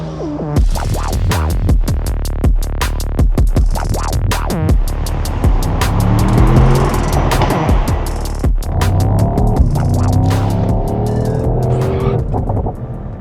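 A Mercedes-AMG GT63 drives hard on the Grossglockner mountain road, its engine loud and close, revving through rising and falling pitches with quick shifts and crackling pops, and no talking.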